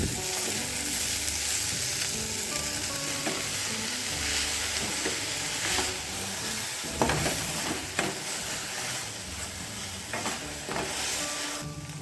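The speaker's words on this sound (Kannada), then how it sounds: "ಇದನ್ನು ಕೂಡ ಈ ಮಸಾಲೆ ಜೊತೆ ಚೆನ್ನಾಗಿ ಫ್ರೈ ಮಾಡಿಕೊಡೋಣ" Cut fenugreek leaves fry with masala in a pan for a brinjal and methi leaf palya, giving a steady close sizzle with repeated stirring scrapes and a few sharper clatters, and no voices.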